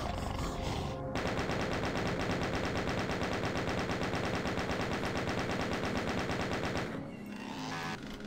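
Rapid automatic gunfire in the Doom mod MyHouse.WAD, a dense continuous burst of loud shots lasting several seconds, with brief game sounds before and after.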